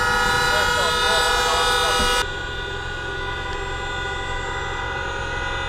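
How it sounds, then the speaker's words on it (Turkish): Sustained blaring horns from ships, metro trains and buses, several overlapping steady tones, loud and continuous, then cutting to a quieter lingering drone with distant horn tones. "gemilerle metro trenleri ve otobüsler korna"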